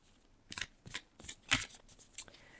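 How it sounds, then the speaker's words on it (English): Tarot cards being shuffled by hand, a series of five or six short, crisp riffling bursts with brief pauses between, close and fairly quiet. "As I'm shuffling the cards"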